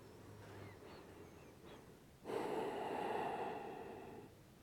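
A yoga practitioner breathes out audibly while lowering the body to the floor during a sun salutation, a steady breathy rush of air lasting about two seconds over a soft background.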